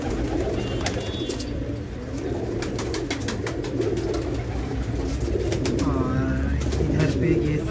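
Pigeons coo steadily in a loft in Jamshedpur, Jharkhand, a dense low murmur of many birds feeding just after release, with brief chirps and flutters on top and some voices in the background.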